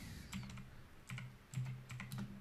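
A command is typed on a computer keyboard into a Windows 11 command prompt: quick bursts of light, close key clicks separated by short pauses, over a low background hum.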